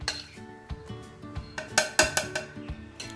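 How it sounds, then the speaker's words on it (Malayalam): A spoon or whisk stirs flour batter for pancakes in a bowl, giving a run of light clinks and taps against the bowl's sides in an irregular rhythm, close and moderately loud. "ഇതുപോലെ മാവ് കുറേശ്ശെ ഇട്ടിട്ട് കട്ട ഇല്ലാതെ ഇളക്കി കൊടുക്കണം കേട്ടോ"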